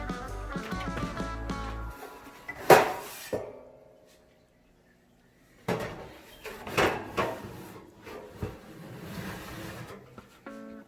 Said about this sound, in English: now we're gonna put this into the oven